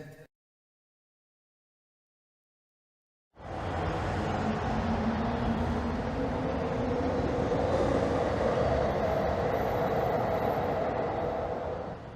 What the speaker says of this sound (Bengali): ওই যে আবার ট্রেনটা চলে গেল